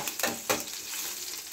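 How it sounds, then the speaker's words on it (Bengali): Curry leaves hit hot oil in a pan for tempering, bursting into two sharp crackling sizzles that settle into a steady hiss, close and alone. "কারি পাতা দিলাম ফোড়ন"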